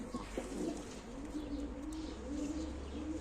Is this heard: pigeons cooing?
yes